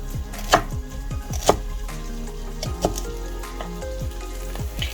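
Knife slicing pieces for a lamb stew, several crisp chops at an uneven pace, about five cuts, close and distinct over a steady low kitchen background with no talking.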